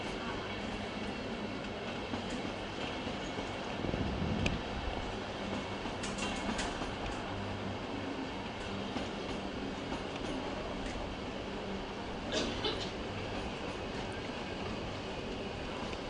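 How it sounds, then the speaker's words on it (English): Older InterCity coaches rolling through Munich's Hackerbrücke S-Bahn station, a continuous heavy rail rumble with rhythmic wheel clatter and occasional brief squeals, heard from the platform with no speech. "Some older InterCity coaches there."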